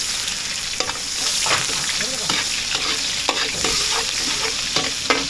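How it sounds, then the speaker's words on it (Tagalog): Garlic and onion sautéed in hot oil for pancit bihon: a constant close sizzle with frequent quick spatula scrapes and stirring strokes, no talking. "gigisa na natin yung ating pancit bihon. Meron tayong bawang. Lumay ito yung mantika natin. Bawang, sibuyas."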